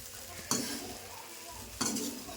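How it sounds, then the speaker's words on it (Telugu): Lemon pulihora rice is mixed in a pan, two distinct scraping strokes of the spoon standing out over a quiet background of faint sizzle. "మంచిగా అంతా కలిసేటట్టు మంచిగా కలుపుకోవాలి"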